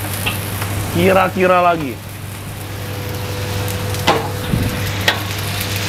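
Chicken sizzles and fries in a pan with fish sauce and sesame oil, a continuous close hiss with a few utensil knocks, while someone speaks briefly early on.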